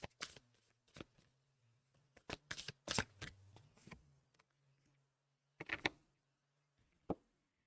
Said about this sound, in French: je vais vous prendre une carte